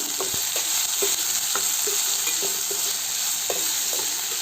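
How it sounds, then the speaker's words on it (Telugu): Carrot frying in oil with salt for semiya upma, with a steady sizzle broken by repeated scraping and stirring taps from a spoon in the pan, close and without speech. "క్యారెట్ యాడ్ చేసుకున్నాం కదండి అది ఆల్మోస్ట్ ఇక ఆయిల్లోనే ఫ్రై అయ్యేలాగా చూసుకుందామండి"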